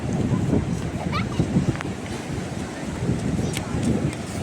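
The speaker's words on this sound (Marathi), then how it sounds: "दाखवा मला अथांग समुद्र कुठे आहे" Sea surf and gusting wind roar steadily on a Konkan beach near Vijaydurg fort, a broad low rumble buffeting the microphone, with voices talking over it.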